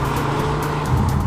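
A Jaguar F-Type sports car engine hums with a steady low drone, a constant rumble that swells slightly near the end, with no voices over it.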